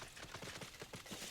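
Hoofsteps of a six-legged bug-like horse mount in a video game, a quick, steady clip-clop patter of repeated footfalls at moderate, even loudness with no talking.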